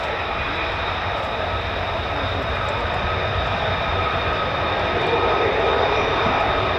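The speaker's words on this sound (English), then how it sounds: "There's a 5 ship of F-15s heading this way." A five-ship formation of US Air Force F-15 fighter jets from the 48th Fighter Wing at RAF Lakenheath roars overhead as a steady, loud, broadband rumble that swells slightly toward the end.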